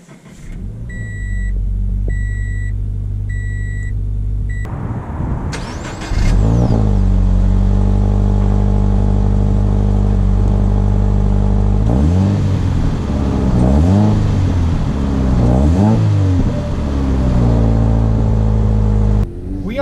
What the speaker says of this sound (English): let's take it out to see how it drives.